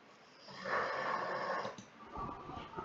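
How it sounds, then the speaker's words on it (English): A dog snores softly nearby, with a drawn-out raspy inhale followed by quieter snuffling breaths. "he's snoring as he always does"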